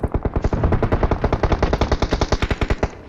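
Rapid automatic gunfire in a shooter video game, a loud, steady stream of closely spaced shots rattling continuously for about three seconds with no talk over it.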